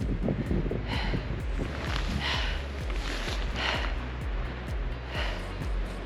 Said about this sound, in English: It's only a little windy.